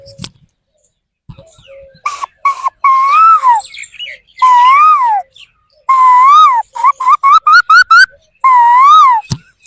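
A voice whistles an imitation of an Asian koel's call in repeated rising-falling phrases, some long, others quick and clipped, loud and close with short gaps.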